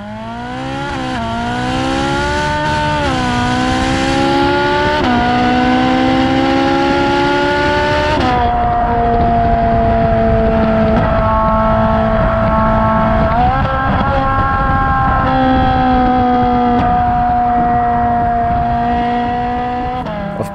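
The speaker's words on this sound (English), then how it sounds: "Of course, it's the groundbreaking, iconic Ferrari 458." A Ferrari 458, the naturally aspirated V8 supercar, screams loud and close for about twenty seconds, its engine note climbing through gear after gear with brief dips at each shift, with no one talking.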